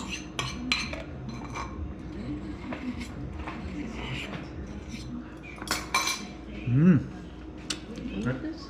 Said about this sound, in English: We're mixing together the leeks and the mushrooms, and we add our crème fraîche and dijon